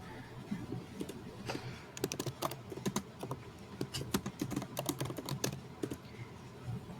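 Fingers type notes on a computer keyboard in quick, uneven bursts of close clicks, with no talking over them.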